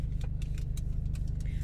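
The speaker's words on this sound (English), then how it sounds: "Oh, I got to turn this car on." A car's engine hums low and steady while keys jangle in quick, bright rattles close by; no one speaks.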